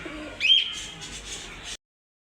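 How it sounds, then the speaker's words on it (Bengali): A short pigeon call rises briefly over a quiet background before cutting off abruptly. "এক পেয়ার চুয়াচন্দন কবুতর দেখেন"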